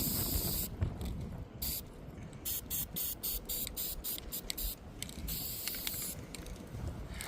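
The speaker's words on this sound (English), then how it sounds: "if you spray a tiny bit more, it'll catch the runoff" Rust-Oleum hammered spray paint hisses from an aerosol can outdoors on a windy day, coming in a run of short, close bursts with brief gaps over a low rumble of wind.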